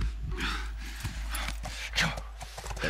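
Horse hooves clip-clop at a steady walking pace in The Last of Us video game, with a soft snort, moderately close and clear over a low rumble of background game ambience.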